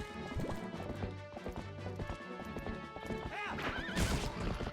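Epona, a horse in the video game Zelda Twilight Princess HD, gallops with steady clip-clop hoofbeats and neighs loudly near the end, amid busy game music and effects.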